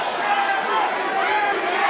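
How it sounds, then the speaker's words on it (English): A boxing arena crowd cheers and roars for Gary Russell during a fight with Mark Magsayo, a dense, loud, continuous wash of voices. "Now you're starting to hear the Gary faithful. The crowd's getting into it."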